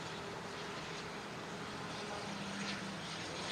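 A Bombardier Learjet 55 jet lands on runway 13 at Fortaleza airport, heard as a steady, fairly faint, distant broadband engine roar that continues throughout.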